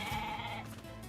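A sheep in the video game NieR Replicant bleats in a steady, drawn-out tone lasting about a second, sitting over dense game music and ambience.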